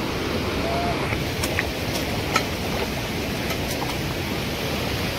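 A large river on the Kalu waterfall monsoon trek rushes in a steady broad roar that fills the scene, with faint scattered clicks over the top.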